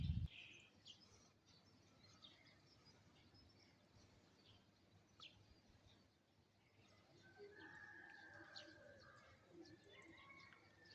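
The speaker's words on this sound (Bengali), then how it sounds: "মুরগির ডাক, কাকের ডাক, কুকুরের ডাকও রয়েছে, পাখির কলরব রয়েছে।" Birds call faintly on a cloudy morning in Shillong, Meghalaya, with soft cooing and occasional thin chirps drifting over a quiet, low background hum.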